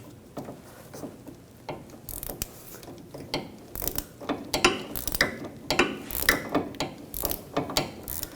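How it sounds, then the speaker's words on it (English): Ratchet wrench loosening the nut on a front sway bar link of a 2007-2013 BMW X5, heard as quick rhythmic clicking bursts that speed up toward the end, close, with no voices. "you can switch to a ratchet wrench."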